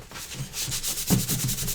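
Something is rubbed onto a wooden part of a cage being built, producing quick back-and-forth scraping strokes in a steady rhythm, close and fairly loud, with no talking.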